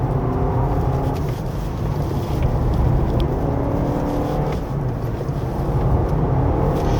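The hybrid engine of a 2025 Honda CR-V 4WD drones steadily under load on a winding mountain road, a continuous loud whir and hum from inside the cabin with no talk over it.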